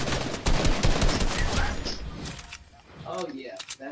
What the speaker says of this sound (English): I'm getting shot by all directions